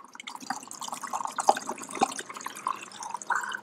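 Blix developer chemical pours into a container, a light splashing and trickling stream with irregular drips and small glugs, close and fairly quiet, with no speech over it.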